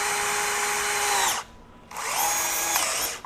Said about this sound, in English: let's go ahead and put it in drill mode, and we'll see if we can just run that past flush